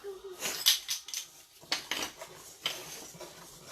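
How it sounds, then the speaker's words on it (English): Snickerdoodle cookie dough stirred in a bowl, giving irregular clinks and scrapes of a utensil against the bowl that come in short bursts with brief pauses, close and fairly clear. "So we're just going to stir this up. We're going to mix all of this up."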